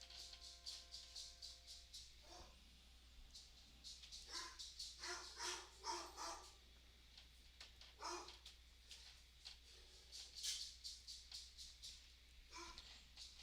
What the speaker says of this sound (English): I apologize for my dog.